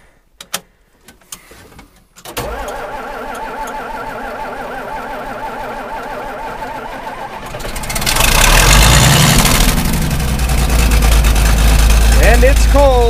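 An engine cold-started with ether on a chilly day around 40 degrees catches after a few clunks, then settles into a steady, rhythmic idle before being throttled up into a louder, rougher roar.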